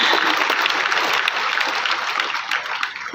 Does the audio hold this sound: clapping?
yes